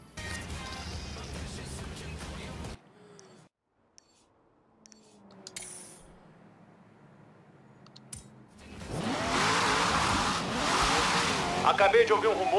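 Chevrolet Corvette racing in the video game Forza Horizon 3: menu clicks and a near-silent pause give way to a loud engine revving and accelerating with rising tone at the end, with game voices heard briefly.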